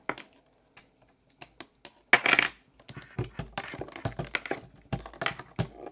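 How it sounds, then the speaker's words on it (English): Patch cables click and clatter sharply as they are plugged and handled in a small modular synth case, with irregular close taps, clustered rattles and a few louder snaps. "there'll be less clicky cable noise and so on"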